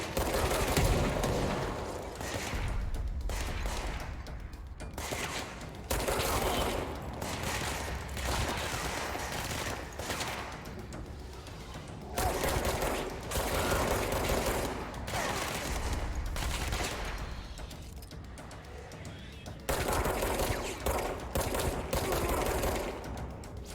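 Sustained gunfire in the video game Control, dense overlapping volleys and rattling bursts that keep going for over twenty seconds, with brief lulls between loud stretches.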